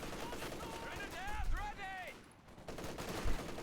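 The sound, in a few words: gunfire from target firing in a strategy video game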